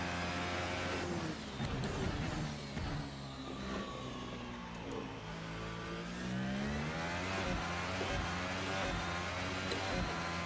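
An F1 race car engine in a video game drives a test lap of the Chinese Grand Prix circuit, revving high and rising and falling in pitch through gear changes and corners, with no voices.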